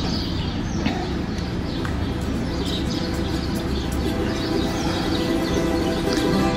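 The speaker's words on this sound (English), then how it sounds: "Oh, can you hear those birds?" Birds call and chirp faintly outdoors over a steady, dense background hum, with scattered short calls throughout.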